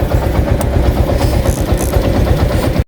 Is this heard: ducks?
no